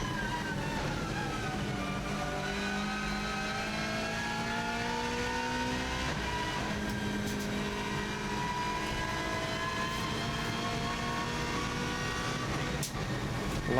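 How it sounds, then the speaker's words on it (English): Race car accelerating hard from 120 to 170 on the Isle of Man TT course, engine note rising through repeated gear changes, loud and close from onboard, sustained throughout without talk. "You can see how much quicker this car accelerates from the 120 right the way through to 170."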